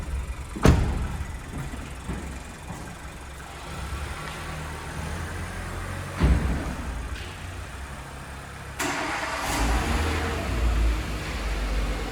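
A Volkswagen T-Roc car sits with a few sharp thumps like doors shutting, then its engine starts and settles into a low, steady idle nearby.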